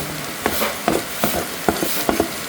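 Onion frying in a pan, an even sizzle broken by five or six rhythmic stirring scrapes, close and fairly loud, with no talking.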